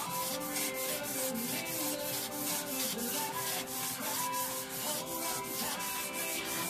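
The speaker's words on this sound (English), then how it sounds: "You want to let the sandpaper do the work." Sandpaper is rubbed back and forth over an engine crankshaft journal from a 2004 Toyota Corolla 1.8L, a steady rhythmic scraping of quick even strokes, close and continuous with no talk.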